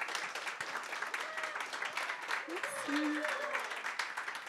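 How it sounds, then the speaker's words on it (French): An audience at a professional talk event applauds as speaker Laura Belleconde is welcomed, a moderate, steady clatter of clapping with a voice speaking over it. "de l'applaudir. Laura Belleconde."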